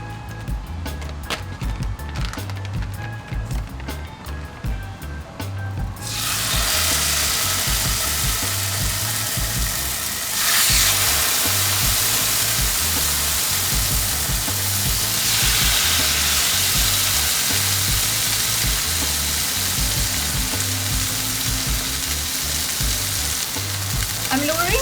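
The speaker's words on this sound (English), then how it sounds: "first I'm going to start pan frying the chicken" Chicken pan frying sizzles in a kitchen, starting with quieter clatter and then swelling into a loud, steady hiss of hot oil that continues without break, with a brief surge partway through.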